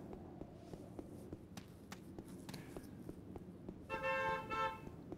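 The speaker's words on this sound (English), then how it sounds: "Some noisy bugger outside with a car horn." A car horn outside sounds a couple of short honks, distant and muffled beneath indoor room noise with faint footsteps and clicks.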